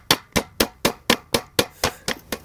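A hammer drives a large nail into a tire while a pitaya plant is staked, giving ten evenly spaced sharp strikes, close and loud, with no talk.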